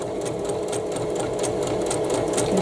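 A sewing machine stitches a Cathedral Window quilt block, running in a rapid, even mechanical rhythm of needle strokes, close and loud with no talking over it.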